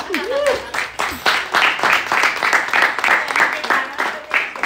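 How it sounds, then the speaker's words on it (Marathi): An audience claps at a pre-wedding gift-giving gathering, with steady rapid clapping that runs under lively talk and laughter. "टाळ्या टाळ्या टाळ्या वाजवा."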